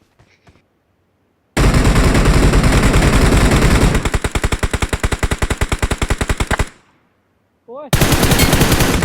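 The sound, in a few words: gunshots, someone shooting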